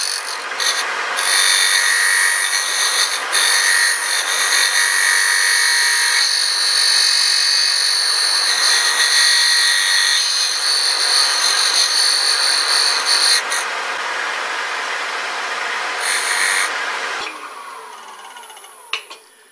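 On a wood lathe, a small round skew-like tool cuts a recess in a hollow Christmas ornament, giving a loud, steady high-pitched scraping hiss that holds for most of the clip and tapers off near the end.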